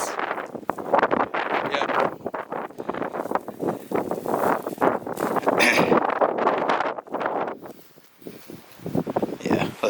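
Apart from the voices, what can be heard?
strong wind blowing outdoors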